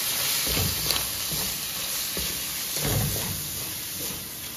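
Ground spices frying with onions in a pan for mutton keema tadka, stirred in repeated scraping strokes over a constant hissing sizzle, close and moderately loud.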